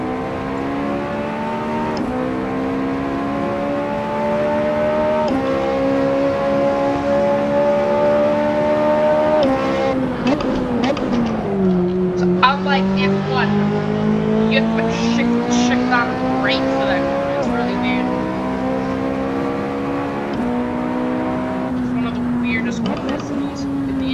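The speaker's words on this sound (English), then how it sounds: "be aware of the LMP1 cars, the Porsches and the Audis and the Toyotas that are going to be flying past us" Race car engines at Silverstone, among LMP1 prototypes from Porsche, Audi and Toyota, howl loud and close, pitch climbing and dropping through gear changes and corners, with a faint voice talking underneath.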